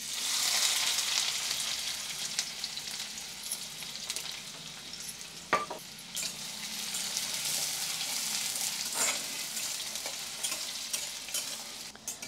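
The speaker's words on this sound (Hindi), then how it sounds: "इसे हल्का सा नरम होने तक फ्राई कर लेते हैं" Onions frying in oil until soft for a Bombay duck dish, with a steady, loud sizzle, occasional stirring scrapes and clinks breaking through.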